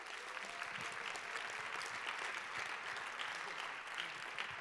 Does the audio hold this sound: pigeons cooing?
no